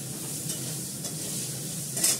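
Potatoes frying in hot mustard oil give a steady close sizzle with faint stirring scrapes and a brief louder crackle near the end.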